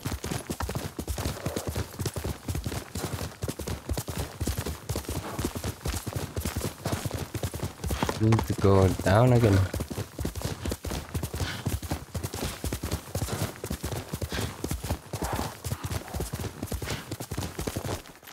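Horse hooves clip-clop at a gallop in the Ghost of Tsushima video game, a steady fast rhythm running throughout with a brief whinny near the middle, while a player speaks briefly over it.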